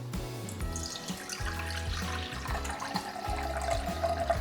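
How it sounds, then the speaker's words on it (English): Unsweetened cranberry juice pouring into a pot set on a kitchen scale, a continuous gurgling splash with shifting pitch as the level rises, close and unbroken. "we're going to measure out 12 ounces of unsweetened cranberry juice"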